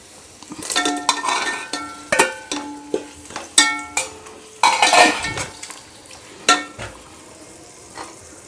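Metal utensil clanks and scrapes against a pan as tomatoes are added to a stingray fish biryani and stirred, a series of sharp clinks and scraping strokes at close range with no talk.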